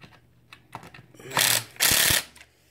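The slipper clutch on an X-Maxx RC truck clicks while being tightened, a run of small ratcheting ticks that swell into two loud, dense bursts of rapid clicking, close up and without talk.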